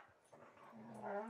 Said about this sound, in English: you're barking